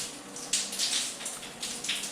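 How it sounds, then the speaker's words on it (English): Water from a newly installed extra-large 16-inch rain shower head patters and hisses steadily nearby, with soft splashing surges and no voices. "we are going to test it by turning on the water right now"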